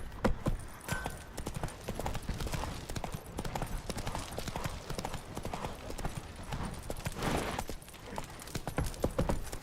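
Roach, a horse in the video game The Witcher 3, clops along at a steady, close and loud rhythm of hooves with no pause, a faint voice briefly audible underneath.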